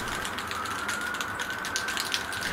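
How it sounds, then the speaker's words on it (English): A spray paint can for acrylic fluid art is shaken hard, its agitator ball rattling in a continuous fast clatter, loud and close, with no talk. "You can hear the agitator ball moving around."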